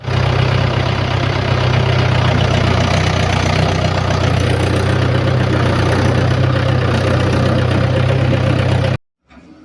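A tractor engine runs steadily at close range with a loud, low, continuous rumble and knock. It stops abruptly near the end, and no voices are heard.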